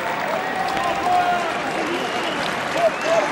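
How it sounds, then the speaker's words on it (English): A rugby crowd at a 2007 Rugby World Cup pool match between Scotland and Portugal keeps up steady applause and stadium noise, with a commentator talking over it throughout. "But big applause for his players."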